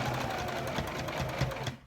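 Sewing machine stitching a baby blanket in a fast, steady whirring run that continues for nearly two seconds before stopping, close and without talk over it.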